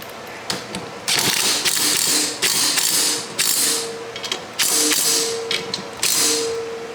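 An EGO lawn mower blade being tightened onto its shaft by hand, giving a run of close, dry ratcheting clicks and mechanical rasps in short bursts, with no talking.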